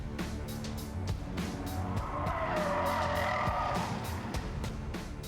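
Police patrol car skidding on a low-grip skid-training rig used for skid avoidance and vehicle stability practice, a sustained tyre squeal rising and sweeping over steady engine noise, close and loud with no talk.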